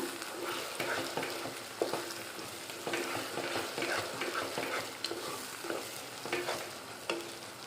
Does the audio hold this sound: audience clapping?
no